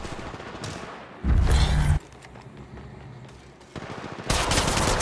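Automatic weapon fire in the mobile battle royale shooter Apex Legends Mobile, bursts of rapid shots with a louder, denser burst early on and heavier firing near the end, close and mixed with game effects.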